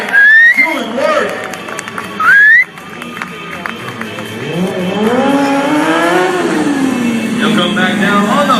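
A stunt motorcycle spins and drifts sideways during a show at the Progressive Phoenix International Motorcycle Show, its engine revving in loud rising and falling sweeps after sharp whistle-like bursts and crowd noise.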